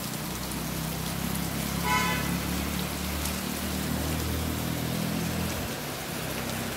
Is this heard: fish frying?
no